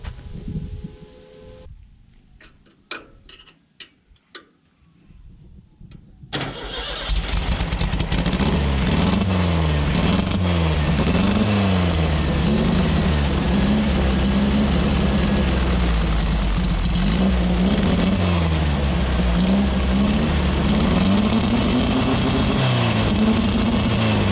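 An abandoned VW rail buggy engine, recently flooded, gives a few sputtering cranks and pops before catching and running steadily, loud and close, its revs rising and falling in a rough, wavering drone.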